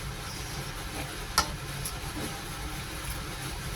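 Rice vermicelli noodles stir-fried in a pan for a dish with pork bones, a steady low sizzle with one sharp scrape of the utensil, heard alone.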